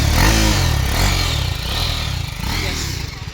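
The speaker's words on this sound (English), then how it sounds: "Rev it up, please." A BMW G310RR motorcycle engine revs up close, a loud, steady low rumble with slight swells in pitch, its exhaust note running throughout without talk.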